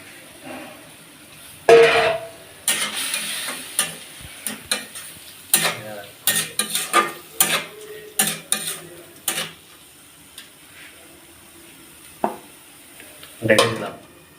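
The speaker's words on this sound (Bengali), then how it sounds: "আমরা আমাদের ডালগুলো দিয়ে দিলাম" Red masoor lentils sizzle and fry in a pan while a spoon stirs them in repeated scraping strokes, with clinks against the pan, close and fairly loud, for a lentil bhuna dish.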